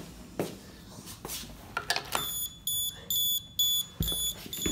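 A plug-in socket tester sounds its warning on a socket with live and neutral present but a missing earth, giving a series of loud, evenly spaced high beeps after a few handling clicks and knocks.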